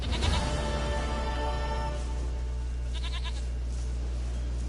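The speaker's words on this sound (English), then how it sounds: "Oh, I got the goat." Goat bleating in the video game The Witcher 3: a wavering, nasal bleat, close and clear over a low steady background hum, with a shorter bleat following.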